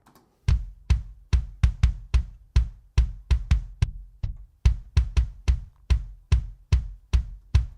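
Layered kick drum, two added samples stacked on an original live concert kick, thumping in a steady four-on-the-floor pulse of about twenty punchy, loud hits, alone with no other sounds.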